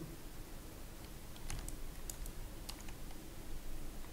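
Rapid keystrokes on a computer keyboard entering a Shift+C shortcut during character rigging work, a sparse run of crisp close clicks over a steady low hum, no voices.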